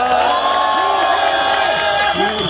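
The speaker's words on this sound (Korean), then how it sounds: "박수 한번 쳐주세요" A crowd at a political talk show event cheers and whoops with clapping mixed in, loud and continuous, with excited voices rising and falling over the noise.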